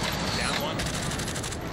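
Dense rapid gunfire bursts from a shooter video game fill the short stretch, loud and continuous with a metallic crackle, while players talk over the shooting.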